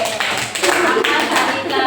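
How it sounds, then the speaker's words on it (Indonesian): A group of students in a classroom claps and applauds continuously, close and loud, with voices mixed in. "tepuk tangan buat kelompok nanas"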